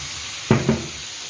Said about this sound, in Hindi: इसमें आपने ये जो 3 कप मैंने पानी निकाला था वो इसके अंदर ऐड कर दें